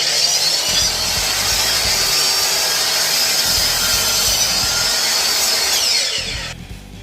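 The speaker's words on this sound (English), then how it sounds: "now we're going to make our miter cuts for frames" Power saw making miter cuts in wood for picture frames, a loud continuous high whine of blade through timber lasting about six seconds before spinning down and cutting off near the end.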